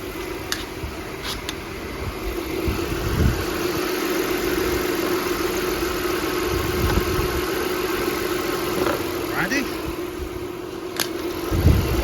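Old Audi A6 that sat unused for over a year idling after startup, a steady mid-pitched engine hum with faint vibration and a few small clicks and knocks around it, no voices.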